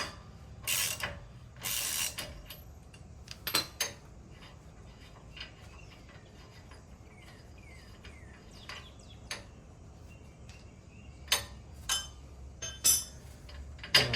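A ratchet and socket removing a nut on a Jeep Wrangler TJ steering linkage, heard as short bursts of ratchet clicking and metallic clinks spread across a quiet stretch of workshop background, with no talk.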